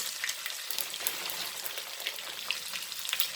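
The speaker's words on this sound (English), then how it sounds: "and then we will add to this our garlic, few of garlic" Garlic fries in a pan with cumin seeds for Goan sol curry, giving a steady, close sizzle with crackly pops at an even level throughout, with no voices.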